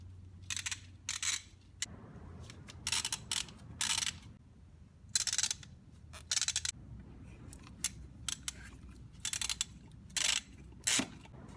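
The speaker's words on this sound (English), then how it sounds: "there are 4 10mm bolts to pull out, here, here, here, and one back there." Bursts of rapid ratchet clicking come from a ratchet working 10mm bolts on a 2001 Jeep Cherokee 4.0 engine, fairly close, with brief pauses between the short runs.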